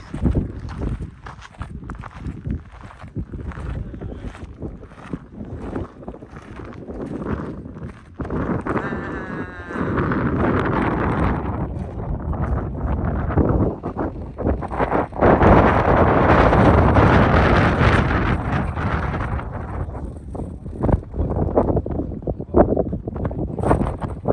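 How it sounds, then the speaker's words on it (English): Steady wind on the coast of Mykonos, Greece, near a lighthouse, blowing hard across the microphone, a rough broadband rumble that rises and swells in gusts, loudest in the middle and late stretches. "I forgot to mention how windy it was"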